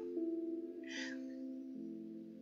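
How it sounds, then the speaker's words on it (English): A cat lets out a single short, faint meow partway through, over a steady low tonal hum in a gaming setting. "My cat is named Pogo"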